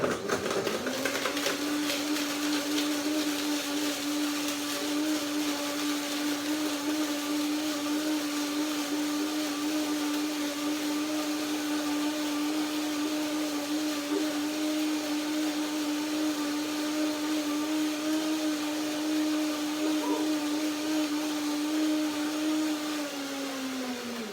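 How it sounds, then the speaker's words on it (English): A blender whirs loudly and continuously at a steady high pitch for over twenty seconds blending dates and almonds, then winds down at the end. "Just put the dates into the blender."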